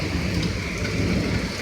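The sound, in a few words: heavy rain pouring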